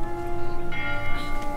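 A bell tower bell rings in the video game Bramble: The Mountain King. A sustained metallic hum carries through, and a fresh strike lands partway in, adding a brighter ringing layer over the fading tone.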